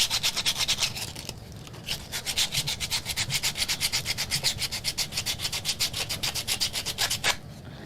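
A wooden coaster is sanded by hand in steady, rapid back-and-forth strokes, the rasping rubbing repeating evenly and close up with a couple of brief pauses, no talking.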